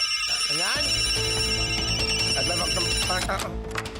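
A telephone rings with a bright, repeating bell-like tone over busy background music, steady and fairly loud throughout.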